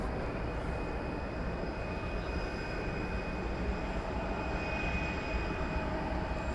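An airliner arriving at DFW Airport from Mexico City makes a steady broadband engine rumble with a faint high whine, continuous and unbroken, with no talk.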